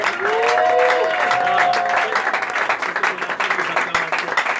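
A church congregation clapping and cheering for the king of kings, dense sustained applause from a crowd that holds steady throughout, with a faint tonal whistle or voice rising early on.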